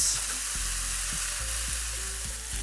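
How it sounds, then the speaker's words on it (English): Vegetables and rice for veggie fried rice sizzle steadily in a hot pan, a bright continuous crackle with soft periodic scrapes of stirring underneath. "The whole dish is getting hot. I can hear it sizzling."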